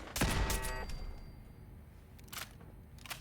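A weapon fires in Fallout 4 survival mode, a sharp close burst of shots at the start, then a quieter stretch with a fainter crack of another shot later.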